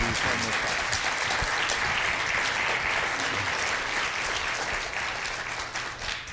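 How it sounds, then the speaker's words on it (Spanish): Conference audience in a hall applauding a doctor, sustained dense clapping that stays loud and steady throughout, easing slightly near the end. "pido por ello un aplauso para el doctor"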